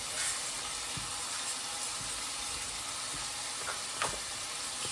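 Fenugreek seeds frying in a pan for egg curry: a steady, quiet sizzle with a few soft stirring scrapes and clicks, no talking.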